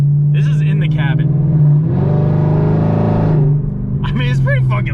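A 2018 Camaro ZL1 fitted with long tube headers and no mufflers, heard from inside the cabin, roars loud and steady through a hard pull, with someone talking briefly before and after the burst.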